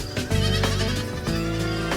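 A goat bleats loudly and close, a couple of wavering, quavering cries running almost continuously through the short stretch.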